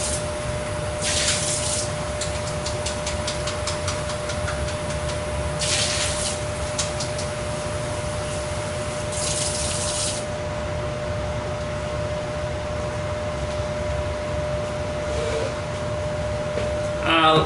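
Water runs steadily from a tap while rinse water is changed during a painting session, a constant close hiss with a few brief louder gushes over the top, and no voices.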